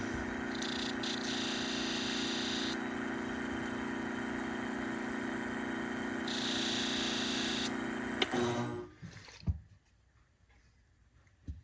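Small Kenchii grooming shears are touched lightly against a spinning grinding wheel, giving a steady, loud motor whine and hiss with a brighter grinding edge in stretches. The sound cuts off abruptly near the end, leaving a few faint knocks.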